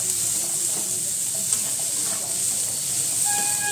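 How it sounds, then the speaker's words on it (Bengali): Vegetables fry in ghee over a slow flame for a Bengali-style white curry and are stirred now and then. The sizzle is a steady, loud, close hiss that runs throughout with no talking. "স্লো ফ্লেম করে এগুলো একটু নেড়ে নিন, ভাজুন করে।"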